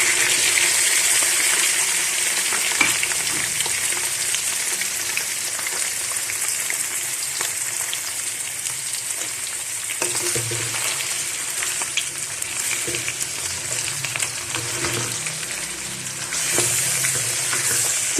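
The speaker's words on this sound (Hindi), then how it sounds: "चिकन को हमने फ्राई करना है इसका रंग बदलने तक।" Chicken pieces frying with onions in a pan for spicy Sindhi biryani, a steady broad hiss of sizzling oil running throughout with occasional soft stirring scrapes, fairly loud and close.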